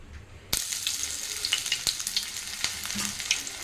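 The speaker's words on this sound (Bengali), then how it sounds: "চলো আলুগুলো দিয়ে দিলাম আলুগুলো একটু ভাজাও" Potatoes drop into hot oil in a wok and fry with a steady, close sizzle, broken by sharp spatters and stirring clicks; no one speaks.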